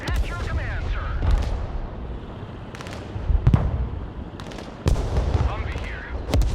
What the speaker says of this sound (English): Mortar at your command, sir.